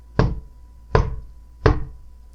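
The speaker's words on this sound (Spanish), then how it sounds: "Y entonces escuché que tocaron la puerta." Three sharp, evenly spaced knocks on a door, close and distinct, each a dry hollow rap with a brief decay, with no talking.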